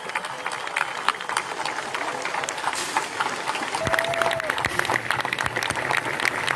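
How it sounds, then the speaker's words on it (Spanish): A crowd at a beatification ceremony applauds, sustained clapping with a few sharp louder claps and a brief whistle-like tone partway through, with some voices mixed in. "Grandes sean nuestros aplausos."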